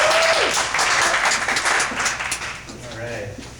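A comedy club crowd applauds, a dense burst of clapping that is loud at first and then gradually thins, with a voice speaking briefly over it.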